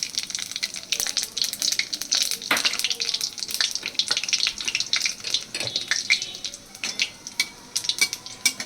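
Black cumin seeds and two dried chillies fry in hot oil in a wok, crackling and spattering in dense bursts, with a bright continuous sizzle and occasional clatter close by.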